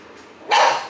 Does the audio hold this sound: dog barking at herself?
yes